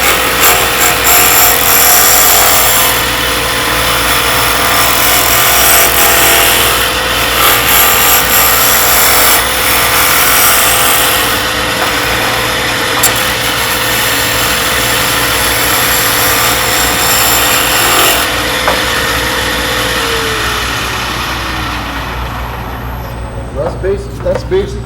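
A roughing gouge cuts wood spinning on a lathe, making a loud, continuous broadband roar that holds steady and then eases off near the end.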